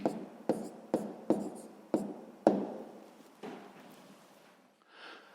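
A pen writes out the answer to a sixth-grade math exercise, with several quick scratchy strokes in a tapping rhythm close up, followed by softer scribbles and then quiet.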